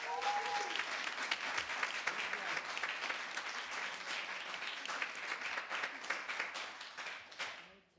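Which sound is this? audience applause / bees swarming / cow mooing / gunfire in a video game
audience applause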